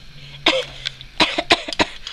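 A baby coughs in a series of short, sharp bursts: one near the start, then a quick cluster of several close together, loud and close-up.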